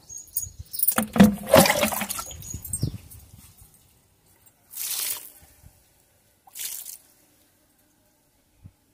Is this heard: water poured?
yes